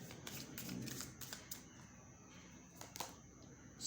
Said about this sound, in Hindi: Last card from this deck, इसको थोड़ा सा ऊपर कर देते हैं।